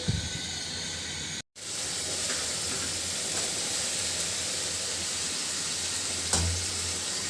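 Potato pieces coated with turmeric, chili and salt fry in a pan, giving a steady close hiss and sizzle, briefly cut off once, with a soft clunk near the end.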